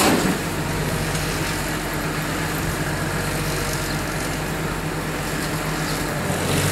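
An old tractor with a new motor runs steadily, a loud, constant low engine rumble with a rough idle texture that holds unchanged from start to finish.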